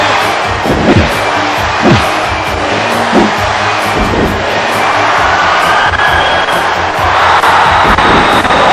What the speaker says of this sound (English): John going out for this capacity crowd